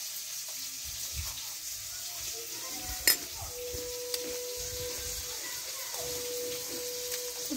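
Prawns fry in a pan with a soft, continuous sizzle and bubbling, broken by an occasional utensil clink and a sharp tap, under faint background speech.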